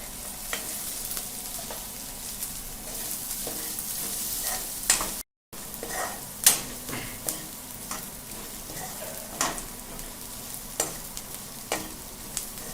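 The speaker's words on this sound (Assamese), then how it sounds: "পিঁয়াজখিনি অকণমান ভাজা যোৱাৰ পিছত এতিয়া হালধি দি দিছোঁ।" Onions frying with turmeric in a pan for a kabuli chickpea ghugni: a steady sizzle throughout, broken by repeated scraping stir strokes, with a brief gap near the middle.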